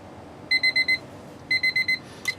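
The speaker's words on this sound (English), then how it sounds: "The state does allow you to use your cell phone as a timer for this test." A cell phone timer alarm goes off during a truck air brake check, sounding two quick bursts of four sharp electronic beeps each, close and clear over a low idling rumble.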